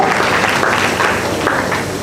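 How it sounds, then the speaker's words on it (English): Dense, steady applause from a workshop audience greeting a Nestle Nigeria manager, a loud continuous wash of many hands clapping. "with a resounding applause, please appreciate Mr. Shakiru Lawal"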